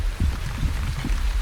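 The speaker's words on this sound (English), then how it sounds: "It's raining, which is fantastic for us." Rain falls in the survival video game Wandering Village, a steady soft hiss of drops that fills the short stretch evenly and sounds close.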